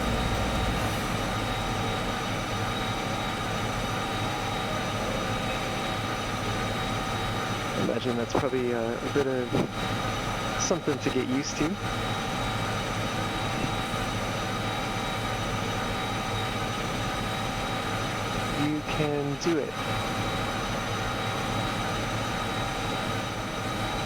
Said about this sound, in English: this locomotive struggles up the hill